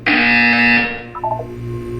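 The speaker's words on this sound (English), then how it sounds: "You will hear a buzzer." A steady electronic buzzer tone sounds in the video game Portal 2, holding loud and constant for about a second before dropping to a quieter warbling tone that runs on to the end.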